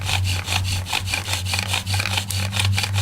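A bow drill spins a wooden spindle against a wooden fireboard, giving a loud, close, rhythmic rasping that rises and falls with each back-and-forth stroke of the bow, about three strokes a second, with no voices.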